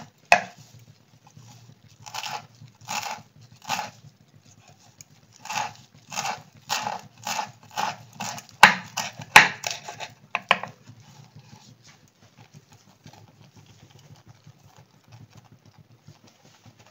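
Knife chopping green coriander leaves on a board, a run of sharp, evenly spaced close thuds that quickens and then stops, leaving near silence.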